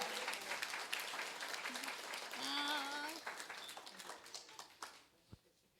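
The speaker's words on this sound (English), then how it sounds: "Let's just give her a round of applause again because she deserves it." Scattered applause from a community meeting audience, moderate and somewhat uneven, with voices rising over it midway before the clapping thins out to a few last claps.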